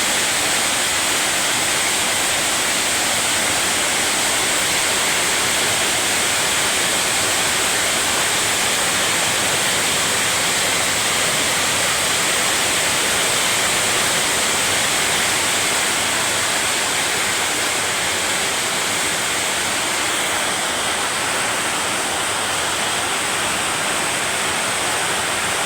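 A first heavy downpour of rain roars as a dense, loud, unbroken hiss, steady and close throughout with no pauses.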